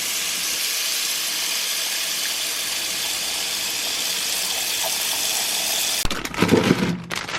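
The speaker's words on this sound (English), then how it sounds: "So I'm gonna go ahead and wash these up" Steady hiss of running tap water rinsing peeled carrots and a cucumber, constant and fairly loud, with a brief splashing clatter near the end as the vegetables are handled under the stream.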